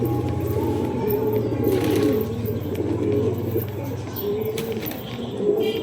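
Pigeons at a home loft coo steadily and close by, a continuous layered low burbling throughout with faint background noise.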